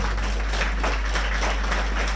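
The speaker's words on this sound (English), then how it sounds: "give a resounding round of applause to the government and the people of Taiwan" Graduates at a graduation exercise give a steady, full round of applause, with continuous clapping from a large crowd over a low hum.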